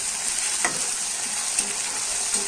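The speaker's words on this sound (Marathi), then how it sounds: "आता हिरवी मिरची आणि अद्रक लसूण हे टाकूया, पेस्ट टाकूया। हे पण व्यवस्थित परतून घ्यायचं आहे।" Green chilli and ginger-garlic paste sizzle with onion and tomato in a hot pan, giving a steady bright frying hiss with a few soft stirring clinks and no talking.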